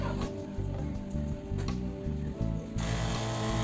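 A small electric water pump on a split air conditioner cleaning sprayer hums and rattles steadily and close up, with a brief shift in tone near the end.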